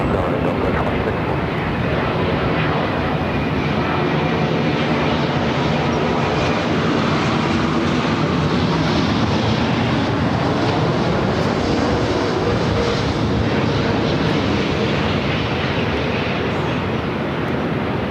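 A Delta airliner taking off from runway 24 left at LAX, a loud, continuous broadband jet engine roar that holds steady and close for the whole stretch.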